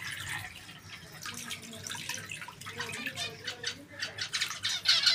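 Water being filled for pet birds in a small home aviary, with running, dripping water at close range under repeated bird squawks and chirps. Some faint talk is mixed in.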